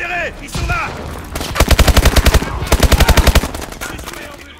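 Automatic weapon fire in the video game Call of Duty Advanced Warfare, loud and close, comes in two rapid bursts of evenly spaced shots, with brief voice and effects sounds before them.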